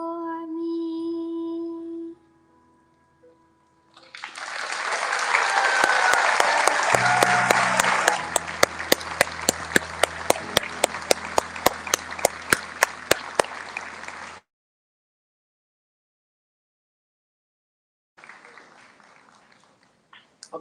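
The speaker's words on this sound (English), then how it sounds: "How about one more round of applause for our third grade and for soloist Liam Weaver" Audience applause for a third-grade group and a child soloist at a school flag ceremony, a loud sustained burst of many hands clapping that builds and then cuts off, with a faint return of clapping near the end.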